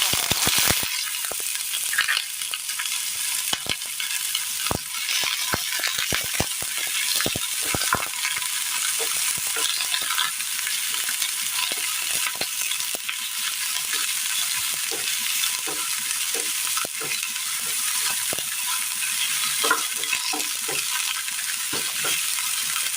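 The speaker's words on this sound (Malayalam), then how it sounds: "എണ്ണയിലേക്ക് നമുക്ക് സബോള ഇട്ട് കൊടുക്കാം." Onions frying in hot oil in a pan, a loud continuous sizzle and crackle close up with scattered pops and stirring sounds throughout, no talk.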